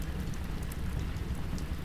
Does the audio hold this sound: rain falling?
yes